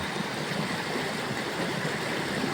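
A flooded river rushes along in a steady, broad wash of turbulent water, constant and moderately loud, heard alone without voices.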